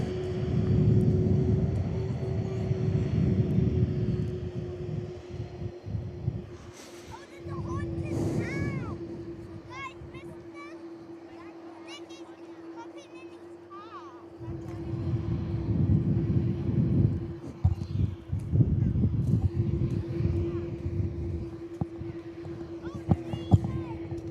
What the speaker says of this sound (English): Here we go, Qantas 71 at your service, outbound to Singapore this afternoon.